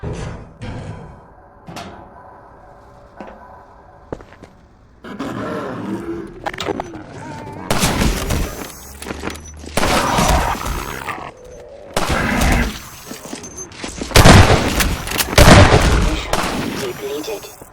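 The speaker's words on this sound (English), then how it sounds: "Let me shoot out the latch." Rifle shots at a latch in Half-Life 2: Episode One ring out loud and sharp, a few isolated cracks followed by heavy bursts of gunfire and combat noise, with grunts and game voices mixed in.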